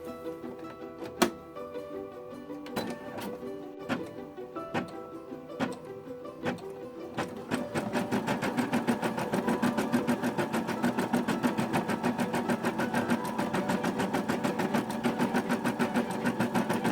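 Sewing machine stitching a design in variegated thread for a straw holder zipper pouch, a dense fast regular needle clatter running steadily and fairly close after some sparse ticks and clicks at the start.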